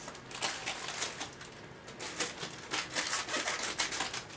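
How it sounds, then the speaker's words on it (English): Scissors snipping through the top of a package during home winemaking with cinnamon sticks, a quick series of crisp, close cutting and rustling sounds at low volume. "I just grab my scissors and cut the top off here"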